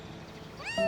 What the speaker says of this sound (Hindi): ऐ बिल्ली,